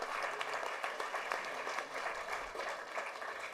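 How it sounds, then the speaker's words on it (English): Audience applause for world boxing champion Mary Kom at a felicitation event in Malad, Mumbai: steady, dense clapping from a crowd that runs unbroken and fairly even throughout. "a huge round of applause for our guest for today"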